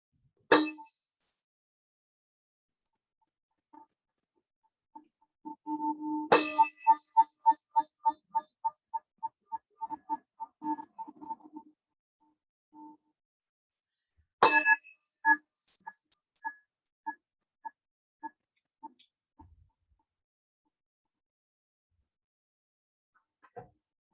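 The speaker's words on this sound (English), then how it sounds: "I'm going to ring 3 bells, and that will be the closing of the event." Three bells rung one after another to close a meditation event in New York City, each a bright clang followed by a long ringing decay, with quiet gaps between strikes and no talking.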